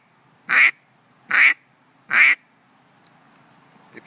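A handheld duck call imitates the scare call of a hen mallard flushing off the water, with three short, evenly spaced loud quacks followed by quiet.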